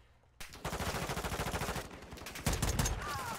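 Rapid automatic gunfire from a Modern Warfare 2 beta match, loud and close, with sustained bursts and a heavier volley near the end.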